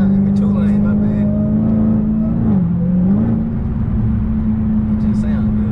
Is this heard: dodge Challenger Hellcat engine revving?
yes